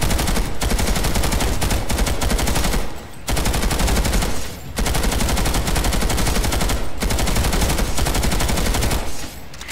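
A TR LMG light machine gun in a video game fires long sustained automatic bursts, loud and close, with brief pauses between strings of rapid shots.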